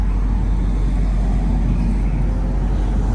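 Steady low road rumble and engine drone from inside a car moving through city traffic, a continuous dense hum with no voices.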